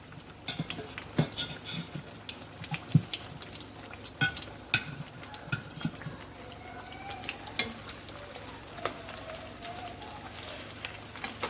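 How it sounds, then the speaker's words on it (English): Steady crackling and sizzling of plantain frying in hot oil, with occasional light clicks and clatters of a utensil, close and continuous. "So I'm going to add a plantain into the oil."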